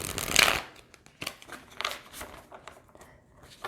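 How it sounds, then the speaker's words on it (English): A quick riffle of tarot cards being shuffled, followed by a few soft paper flicks and taps as the deck settles, close and fairly quiet. "One more shuffle"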